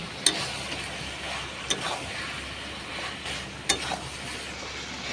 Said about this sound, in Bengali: এইবার ভেজে রাখা আলুগুলো এর মধ্যে দিয়ে দিলাম দিয়ে আবার ভালো করে কষিয়ে নেবো